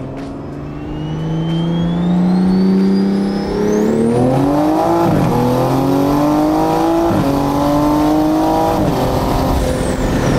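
A big-turbo Toyota A90 Supra with a stock B58 engine pulls hard in second gear after a brake-boosted launch. Its loud, close engine note rises steadily with a climbing turbo whine and a few brief dips in pitch.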